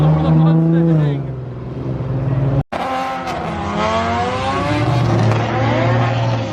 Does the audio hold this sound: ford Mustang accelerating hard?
yes